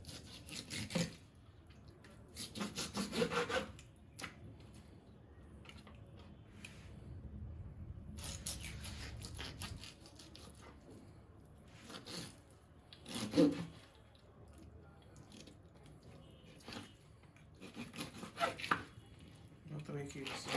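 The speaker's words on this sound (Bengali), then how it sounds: "এখন আমি এই চিকেনটা বুকের মাংস দিয়ে" A knife cutting chicken breast meat on a board, scattered soft rubbing and chopping strokes in short bursts, fairly faint and close, with quiet talk in between.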